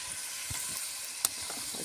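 Oil, onion and tomato paste frying in a pot over a wood fire for a green bean stew give a steady soft sizzle. A sharp pop or stir clink cuts through once partway.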